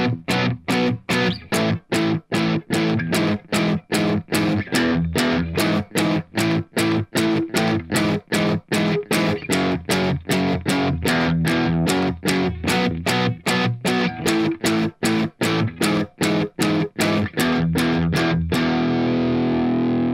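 Heavily distorted electric guitar plays the second guitar part of a solo, a steady stream of rapid picked notes with short gaps, loud and close, ending on a held ringing note.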